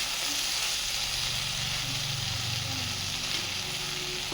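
Taro stolons (kochur loti) frying in a pan give a loud, dense, continuous sizzle that stays steady throughout with no talking.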